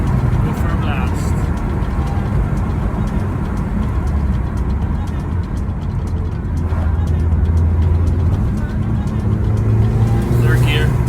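Mitsubishi Evo 9 driven hard on a dry, twisty country road, its engine and road noise forming a loud, continuous roar that rises slightly toward the end, recorded from inside the car.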